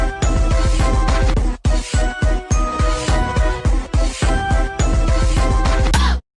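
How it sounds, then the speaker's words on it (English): Old handheld blow dryer in use during a lace wig install: loud, dense rushing roar with repeated rhythmic thumps and brief dips, as if the airflow is moved or interrupted, running close for about six seconds before cutting off. "Y'all don't make fun of my blow dryer. I need to buy a new one."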